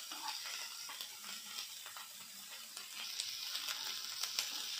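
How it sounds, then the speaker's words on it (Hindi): Chopped onions frying in a pan until brown for palak paneer, a soft, fairly quiet sizzle with light clicks and scrapes of stirring throughout. "हम इसे थोड़ा सा भून लेंगे प्याज को ब्राउन होने तक।"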